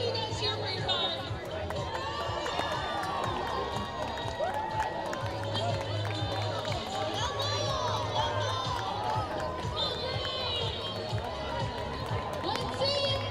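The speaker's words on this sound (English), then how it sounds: "Can we hear you guys cheer for your car?" A ballpark crowd at an Oakland Ballers game chatters and cheers at a steady, moderate level during a mascot car race, with people talking and shouting throughout.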